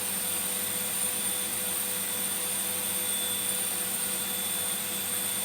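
A KAB EV-1 professional record cleaner's vacuum running, a loud steady whining roar with a high constant tone, unchanging and close throughout.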